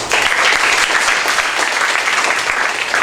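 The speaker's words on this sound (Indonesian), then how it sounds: "Tepuk tangan." Students applauding in a school hall during a national defense training session for student council members, loud, close, dense clapping sustained for about three seconds.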